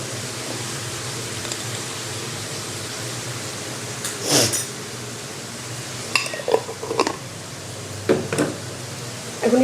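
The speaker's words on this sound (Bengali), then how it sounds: "এখন এটাকে একটু আমি ভালো করে নাড়া দিয়ে নিব।" Minced meat and pointed gourd being stirred in a pan, seasoned with five-spice powder, give a faint background sizzle broken by a few sharp spatula scrapes and clinks against the pan.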